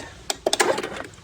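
Starter solenoid on a John Deere D140 lawn mower, not passing 12 volts, clicks several times in quick succession, sharp close-up clicks over a low background hum.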